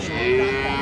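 Close, sustained moo from a dairy cow at a village cattle market, a steady tonal call over a low background hum of the crowded livestock yard.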